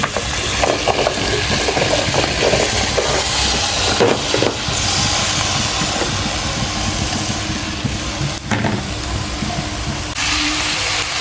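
Vegetables sizzle loudly in oil in a curry pan, a dense continuous hiss close up, broken by a few stirring scrapes, with no talk.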